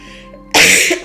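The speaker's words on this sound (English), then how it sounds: "I'm sorry I coughed on stream." A single sharp cough bursts out loud and close after a moment of quiet, with a short follow-up rasp at the end.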